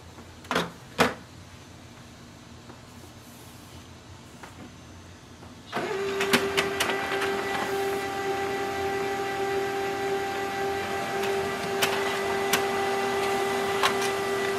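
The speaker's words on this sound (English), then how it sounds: "So let's print one page." A Canon LBP633Cdw colour laser printer printing a page, a few clicks, then a sudden steady mechanical hum with a sustained tone and rattling feed noises running to the end.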